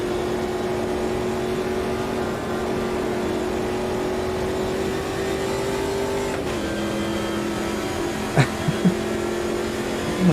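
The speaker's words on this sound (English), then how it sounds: "Beautiful V8 in the Copa Montana." A V8 race car engine in the Copa Montana from the racing game Automobilista 2 drones steadily and loudly throughout, holding a constant rumbling pitch with a couple of brief clicks near the end.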